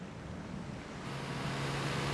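Ocean surf rolling onto a long open Atlantic shoreline in Patagonia, Argentina, heard as a steady broadband wash with wind, gradually growing a little louder over about two seconds, with no voices.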